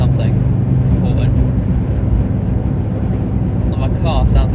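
Constant loud engine roar with a deep low rumble throughout, a voice speaking briefly over the noise.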